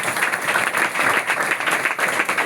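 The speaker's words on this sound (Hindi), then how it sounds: "आज आप लोग एक बात जो ताली बजाई वो किस चीज के लिए?" Steady applause from a conference audience, many hands clapping densely and evenly for a short stretch with no pause.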